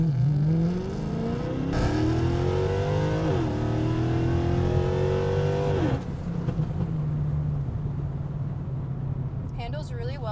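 A Mercedes-AMG car pulls hard with its engine note climbing through several quick upshifts, each marked by a brief drop in revs, then lifts off with a scatter of crackling exhaust pops near the end.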